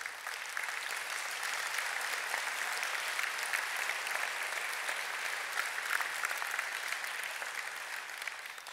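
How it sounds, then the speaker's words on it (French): A crowd claps for social associations at a New Year's greetings ceremony, a dense, even applause held at moderate distance for the whole stretch without voices. "On peut les applaudir."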